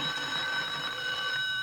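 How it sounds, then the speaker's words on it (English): A telephone rings in an old radio comedy broadcast, a steady electric bell tone sustained through the whole moment against a faint studio hiss, with no voices over it. "Answer the phone."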